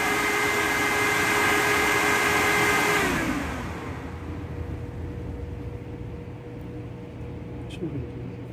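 A car's auxiliary cooling fan motor, wired through a Bosch relay, runs with a steady whirring drone that stays constant after a brief drop in level near the start.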